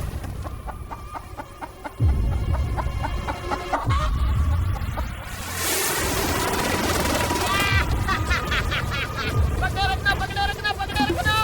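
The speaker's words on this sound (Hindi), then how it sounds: "मैंने मुर्गी पकड़ ली।" Chickens cluck and squawk repeatedly through a busy outdoor scene, with people talking and moving nearby.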